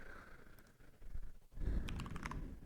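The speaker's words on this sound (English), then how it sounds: "we keep typing out this command" Keystrokes on a computer keyboard as a command is typed, a quick run of close, light clicks that grows busier and louder toward the end, with no talking.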